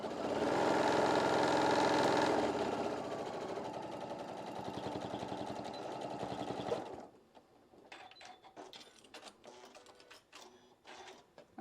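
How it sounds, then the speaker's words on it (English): A sewing machine stitches straight across apron fabric, running loud and steady for about seven seconds before stopping. Quieter clicks and handling noises follow as the work is shifted. "sewing all the way across the other side"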